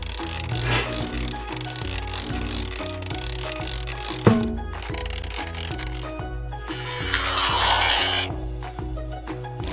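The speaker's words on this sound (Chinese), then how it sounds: "确保全部螺钉都已拧紧" Cartoon ratchet sound effects as screws are tightened, a run of quick rhythmic clicking bursts with a clunk midway and a whooshing swell near the end, set against light background music.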